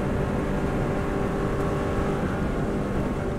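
Subaru race car engine held at full throttle on a TT road course, a loud, steady, dense roar continuing throughout with no voices.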